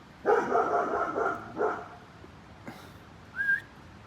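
A dog barks in a short cluster of moderately close yaps, then a couple of fainter isolated barks, with a brief whistle-like squeak near the end in an otherwise quiet setting.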